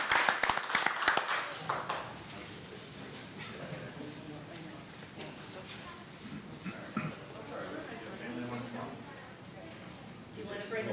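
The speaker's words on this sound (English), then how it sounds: "clap for him again" An audience claps for a student at a Madison schools meeting: a dense burst of hand claps in the first two seconds, then a murmur of voices and people talking over scattered movement.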